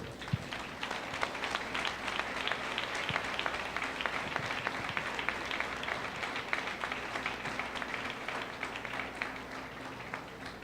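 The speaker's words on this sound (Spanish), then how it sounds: "Aplauda a Jesús." A church congregation applauds together for Jesus during a Spanish-language sermon, a dense, steady clapping that fills the whole stretch with a sustained roar and no talk on top.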